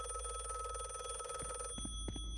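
A steady, loud telephone bell rings in The Last Case of John Morley video game over a low background hum, then stops abruptly and a couple of soft knocks follow.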